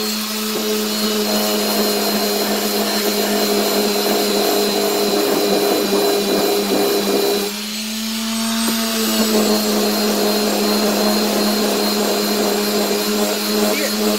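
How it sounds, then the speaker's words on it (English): A power sander works a rusty 131 RE rail during rust removal, producing a loud, steady, close whine that runs without a break. It dips briefly about halfway through and then resumes at the same level. "we're going to go ahead and sand down this side here."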